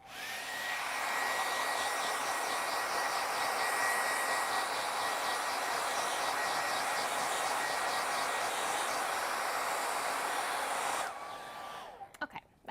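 A hair dryer blows steadily for about eleven seconds to dry light pink paint on cut paper pieces for a Mod Podge garden craft, then shuts off with a few small handling knocks. The whir is close and continuous.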